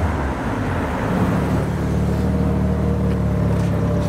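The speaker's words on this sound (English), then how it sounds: "Turbo noises." A Mazda RX7 special edition moving through London traffic, with a loud, steady engine and road drone throughout and faint higher whooshes from the turbo.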